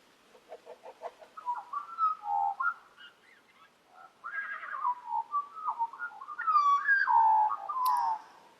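A magpie's warbling song, a varied run of clear whistled notes and trills with slides and pauses, mimicking a wild horse partway through; close and alone, with no other sounds.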